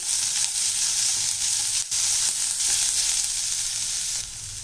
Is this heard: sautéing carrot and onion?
yes